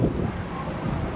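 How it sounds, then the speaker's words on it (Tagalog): Wind gusting across a high viewpoint above K11 Musea in Hong Kong, a steady broadband rush buffeting the microphone without a break. "ang hangin dito guys"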